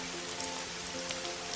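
Steady rain falls on a surface as a dense, even patter that lasts the whole stretch, fairly quiet and with no voices.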